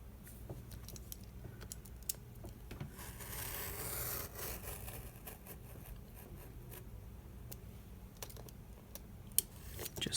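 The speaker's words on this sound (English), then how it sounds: "We're going to cut from the top of one circle to the top of the other circle." Scissors cut through folded paper for a lap book craft project, giving soft, steady rasping snips close to the microphone with brief clicks, quiet and with no talking.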